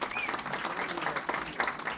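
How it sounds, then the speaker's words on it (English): Dinner audience at a Republican honors dinner applauding, a brief burst of mixed clapping with scattered voices and murmurs under it, lasting about two seconds. "give them a round of applause first."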